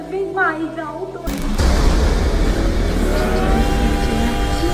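The Choo Choo Charles train monster rumbles up from behind in the video game, a loud, dense roaring clatter that bursts in suddenly and keeps growing, with a voice talking over it.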